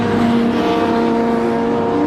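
Race cars lapping Brands Hatch during a CTC Thunder and BOSS qualifying session, a steady loud drone of several engines running together with no clear pass-by peaks.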